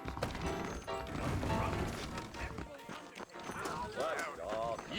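Horse hooves clip-clop in Red Dead Redemption beneath steady talking voices, with scattered clattering thuds.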